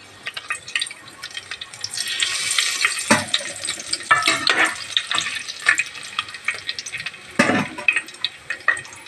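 Whole spices, including cumin seeds, crackle and sizzle steadily in hot oil, with bursts of louder spitting and popping as they hit the pan, close up and with no talking.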